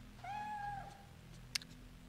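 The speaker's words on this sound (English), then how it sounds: "I'm going to shoot that cat if it carries on meowing." A single drawn-out cat meow from the video game Fatal Frame III, with a bright, slightly synthetic tone over a steady low hum, followed by a brief sharp click.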